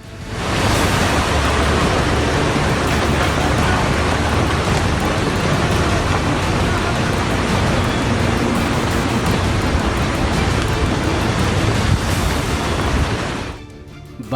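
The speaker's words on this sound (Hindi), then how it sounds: "बारिश का मूसलाधार बवंडर" Torrential monsoon rain in the mountains of Uttarakhand and Himachal, a loud, dense, unbroken roar of heavy downpour that fills the whole span before cutting off abruptly, with no voices.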